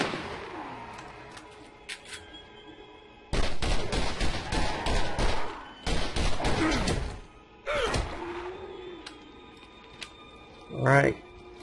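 Sniper rifle gunfire in the video game Borderlands: a few sharp, loud broadband bursts separated by pauses, with a mix of game sound effects between shots.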